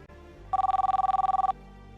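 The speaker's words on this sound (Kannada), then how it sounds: "ಫೋನ್ ಯಾರ್ದು ಅಂತ ನೋಡಿಕೊಂಡು ನಿನ್ನ ಜೊತೆ ಬರ್ತೀನಿ" A phone ringing in a Kannada TV serial scene: a fast, trilling electronic ring of rapid pulses lasting about a second, close and clear, with no talk over it.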